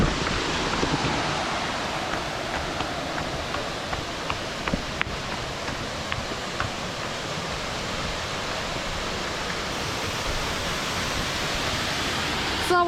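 A constant roar of falling water, broad and steady from a nearby waterfall in Nan, Thailand, with no pauses throughout.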